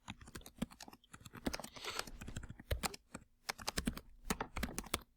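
Fingers typing on a computer keyboard at a quick, uneven pace, with close, distinct key clicks in clusters and brief pauses, and no talking.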